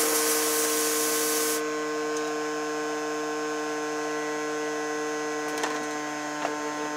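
Freeze spray aerosol hisses steadily for over a second onto a faulty component inside a Nikko NR-700 stereo receiver under repair, then cuts off, leaving a constant electrical hum with a couple of faint clicks.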